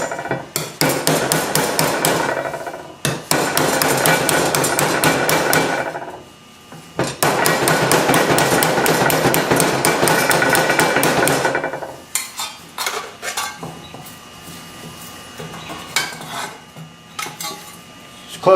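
A hammer taps rapidly on sheet metal while shaping a car trunk lip patch, loud ringing metallic blows in long dense bursts separated by short pauses, then sparser scattered strikes near the end.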